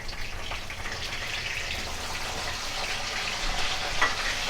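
Cinnamon, bay leaf and fennel sizzle in hot oil in a kadai, a steady crackling fry with light stirring, close and moderately loud, with a brief sharper pop near the end.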